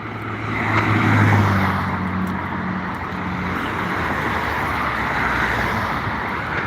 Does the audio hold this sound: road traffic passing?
yes